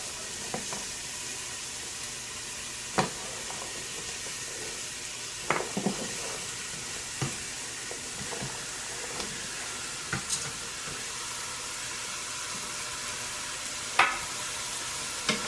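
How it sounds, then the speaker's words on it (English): Lentil stew ingredients sauté in a hot pot with a low steady sizzle, punctuated by scattered sharp clicks and scrapes of stirring against the pot. "Give it a good saute."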